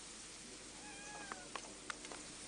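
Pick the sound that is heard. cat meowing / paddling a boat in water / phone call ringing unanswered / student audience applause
cat meowing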